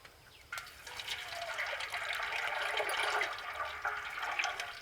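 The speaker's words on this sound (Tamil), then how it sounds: "கடலை எண்ணெயும் நெய்யும் ஊத்திக்கலாம்." Groundnut oil and ghee are poured into a cooking pan for mutton biryani, a close liquid splash and gurgle that begins abruptly and keeps flowing steadily for a few seconds.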